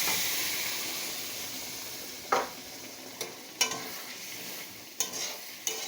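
Boiled dal and ridge gourd go into a pan of frying tomatoes, a soft hissing sizzle under a handful of sharp spoon-against-pan knocks and scrapes as the mixture is stirred.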